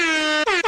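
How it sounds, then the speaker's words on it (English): A loud air horn blares as a steady held blast, then two short quick blasts follow, dropped in during a live Sixers versus Bulls basketball play-by-play broadcast. "I got to drop the air horn for you, bro."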